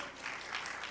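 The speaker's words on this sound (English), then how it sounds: "if you are clapping, please clap well" Audience applause at a relationship panel discussion, a steady wash of many hands clapping at moderate distance, sustained evenly through the short moment without talk.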